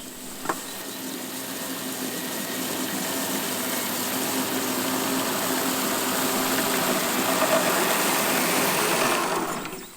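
A lawn machine engine runs steadily for about nine seconds as it struggles through very thick grass with a gummed-up roller, a loud continuous drone with a faint tick near the start before it cuts off.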